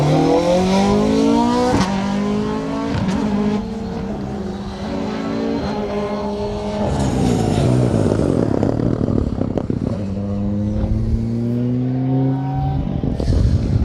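Rally car on a competitive stage at a memorial rally, engine revving hard through gear changes with rising and falling pitch, loud and close as it drives past, with occasional tyre noise.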